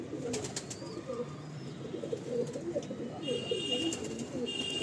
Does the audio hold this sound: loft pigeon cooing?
yes